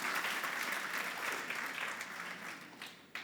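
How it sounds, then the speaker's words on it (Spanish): A church congregation applauds during a sermon, with a dense, steady wash of many hands clapping together at a fairly even loudness that tapers slightly near the end. "dale un aplauso al Señor"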